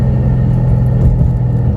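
An Audi B5 A4 with a V8 engine holds third gear around 3,000 RPM, giving a loud, deep, steady rumble heard close up from inside the car, with no voices.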